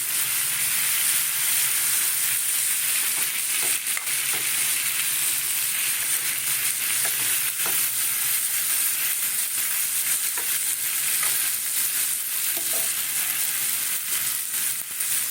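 Boiled then fried potatoes and taro sizzle loudly and evenly in a pan, a continuous close hiss with occasional faint stirring knocks, no voices.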